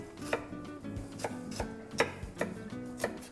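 A kitchen knife slicing ginger into matchstick pieces on a board: about eight crisp, close chops in a loose steady rhythm, with faint scraping in between and no talk.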